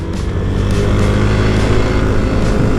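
A Yamaha Mio i125 scooter engine hums steadily under light throttle while leaning into a corner, a close continuous drone with slight rises in pitch.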